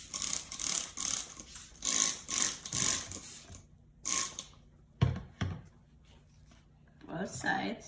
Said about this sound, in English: So then we're going to spray it with water.